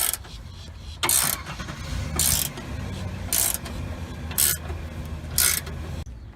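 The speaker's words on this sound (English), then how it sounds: "we're gonna get the 19mm and we're gonna tighten her up" A ratcheting 19mm wrench tightens the track bar bolt on a 2000–2002 Dodge Ram 4x4 during an adjustable track bar install, with five bright ratchet bursts spaced about a second apart over a low rumbling background, close and alone.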